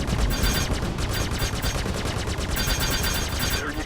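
Rapid ship cannon fire from a Star Citizen dogfight, 2015 Dogfight Module, a steady dense rattle of repeated shots sustained loudly throughout with no pauses.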